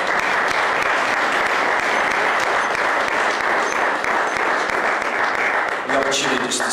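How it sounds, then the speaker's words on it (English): A church congregation gives a sustained round of applause during a Sunday service, loud continuous clapping with voices and cheers underneath, tapering slightly near the end. "give her a round of applause"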